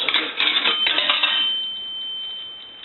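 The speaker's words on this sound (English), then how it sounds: "A nickel will ring the bell once." A single bell strike from an AE three-slot payphone as a nickel drops, a bright close metallic ring with a rattle at the start that fades slowly into silence.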